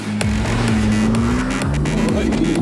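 A Tank 300 off-road vehicle climbing Calcup Hill, its engine droning loud and close with rising and falling revs and gear changes throughout.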